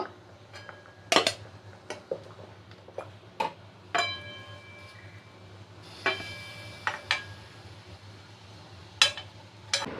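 Metal spoon clinking against a pot while lifting steamed stuffed spiny gourds out one by one, sharp scattered clanks and scrapes at irregular intervals over a low steady hum, close and fairly quiet.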